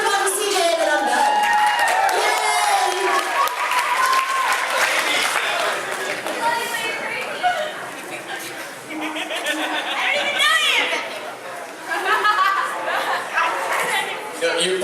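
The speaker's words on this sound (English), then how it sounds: "let's give a round of applause for CJ" At a comedy roast, a live audience claps and cheers in a sustained wave of applause, with chatter and laughter mixed through the crowd noise for about fifteen seconds.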